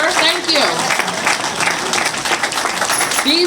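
Crowd applause at a public rally, sustained clapping across the whole stretch with a speaker's amplified voice running over it.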